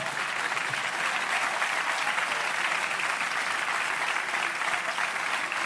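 A comedy show audience applauds steadily and loudly, with dense clapping filling the room for several seconds and no talk over it.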